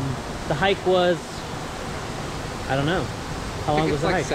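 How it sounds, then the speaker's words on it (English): Waterfall at Seven Falls in Coronado National Forest north of Tucson, a steady broadband rush of falling water holding in the background throughout while hikers talk over it in short bursts. "You can hear the waterfall in the background."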